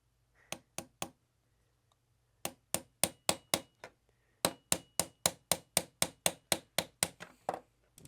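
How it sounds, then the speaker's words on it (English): Steel punch struck with a hammer to drive the plastic retaining pin out of a Ruger-57 pistol resting in a bench block: a few spaced taps, then a fast, steady run of sharp close knocks, no talk. "You can use again the 1/8 punch, position it in the bench block, start slowly, and then you can hammer away."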